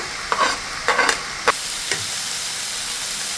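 Shrimp frying with spices and chopped tomato in a pan over a lowered gas flame, a steady sizzle with a few short scraping stirs near the start, close and fairly loud.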